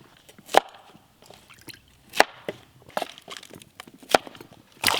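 Knife chopping bamboo shoots into big pieces on a board, sharp isolated thunks spaced irregularly with faint clicks between, close and clear with no voices.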